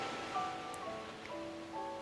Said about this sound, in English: Hear the sounds of the waves